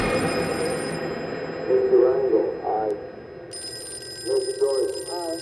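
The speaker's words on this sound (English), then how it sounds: "Phone call comes to her on the floor." A telephone rings in repeated bursts with short gaps, fairly close and clear, with a voice speaking between the rings.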